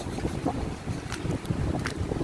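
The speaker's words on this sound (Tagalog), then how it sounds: "masama po ang dagat ngayon malakas ang alon" Rough monsoon-season sea and strong wind buffet the microphone steadily, with sloshing and slapping against a fishing boat, loud and close, no voices.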